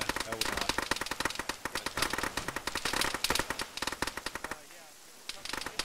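Dense, rapid gunfire crackles through a firefight in the military game Arma, bursts and single shots overlapping almost without pause before a brief lull, while players talk over the shooting.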